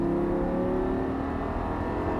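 Audi R8 V10 on a race circuit, its engine droning steadily and loudly under acceleration, a close, continuous high-revving tone with no voices.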